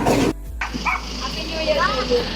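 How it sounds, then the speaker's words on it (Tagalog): A dog gives a couple of short yips and barks amid nearby chatter, with some faint whimpering in the background. "Tita Hilen, ang cute ng mga aso mo"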